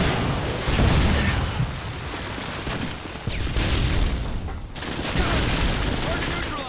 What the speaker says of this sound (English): Friendly Predator missile incoming.